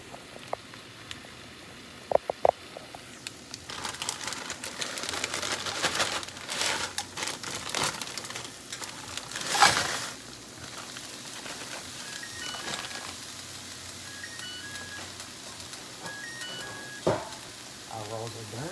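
Cauliflower rice frying in butter in a pan at home, a steady soft sizzle under scattered clatter and stirring, with a sharper burst in the middle and quieter crackling toward the end.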